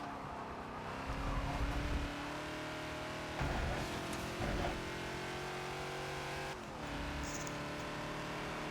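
A Ford Falcon XB race car in Forza, lapping Catalunya National, holds a steady engine drone that swells in short bursts as the throttle changes, with brief tyre scrubbing toward the end and no talking over it.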